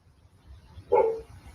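A single loud bark from a dog at a house, fairly close and sharp, standing out against a low rumbling background.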